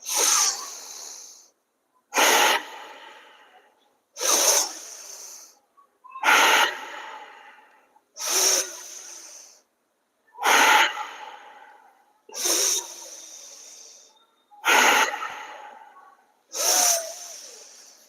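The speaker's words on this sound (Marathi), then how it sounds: "दीर्घ श्वास घ्या जलद गतीने दीर्घ श्वास सोडा" Bhastrika pranayama, a yoga breathing exercise done seated: nine loud, forceful breath bursts at a steady rhythm about two seconds apart, each a sharp rushing exhale-inhale with short quiet gaps between, close and clear with no talking.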